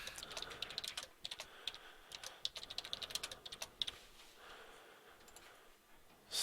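Quick, irregular clicks of someone typing on a computer keyboard, close by and fairly quiet, trailing off near the end.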